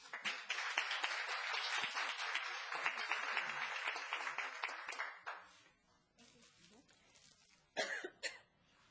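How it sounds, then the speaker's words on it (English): A room at a town council meeting breaks into a round of applause, a dense wash of many hands lasting about five seconds before fading to quiet, followed by a cough and scattered murmurs. "how about a round of applause?"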